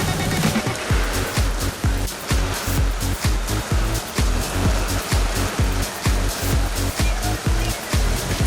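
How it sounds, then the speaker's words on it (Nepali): Heavy daytime rain pours down over a village under a darkened sky, a loud, steady wash of falling water with rhythmic pulses running throughout. "दिउँसै अँध्यारो जस्तो भएर पानी परिरहेको"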